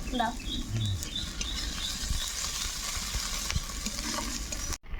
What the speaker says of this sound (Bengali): প্রথমে দিচ্ছি রসুন বাটা, হালকা আঁচ দেবো